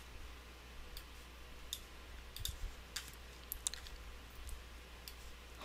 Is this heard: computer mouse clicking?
yes